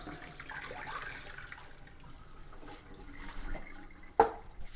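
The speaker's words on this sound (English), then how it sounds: "My jars are nice and hot, ready to be filled. Just going to dump out the water." Hot water splashes and pours out of glass canning jars, a soft continuous gush ending with a sharp clink of glass.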